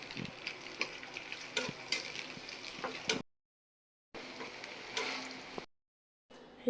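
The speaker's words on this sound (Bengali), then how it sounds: "এই তো পেঁয়াজ ভাজা শেষ" Onions sizzle and crackle in a frying pan with a steady hiss and occasional stirring clicks, close and constant, cut by two abrupt silent gaps.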